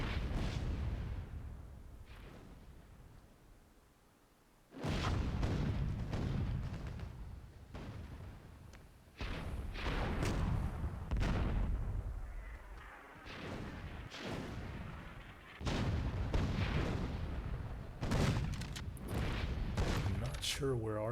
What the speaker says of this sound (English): I'm going to the west with my super cannon